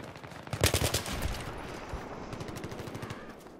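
Rapid bursts of automatic gunfire aimed at a mine during a Battlefield 3 multiplayer team deathmatch on Noshahr Canals, a sharp cluster of close shots followed by a lighter, continuing rattle of fire.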